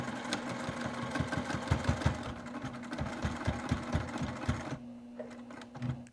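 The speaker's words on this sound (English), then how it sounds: "we're going to go ahead and sew up this line" Sewing machine stitching a seam on a wristlet, a fairly quiet run of rhythmic needle thumps over a steady motor hum that stops near the end, with no talking.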